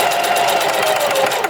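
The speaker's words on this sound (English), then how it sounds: "sew them across the 1/4 seam allowance that we made for them" A sewing machine stitches cushion boxing pieces together along a quarter-inch seam allowance, a loud, close, continuous rapid mechanical whirr and chatter with no pauses or voices.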